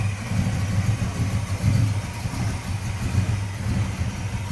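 A 1980 Oldsmobile Cutlass V8 with a four-barrel carburetor and HEI ignition idles smoothly up close, a steady, even low burble with a faint rhythmic lope and no voices.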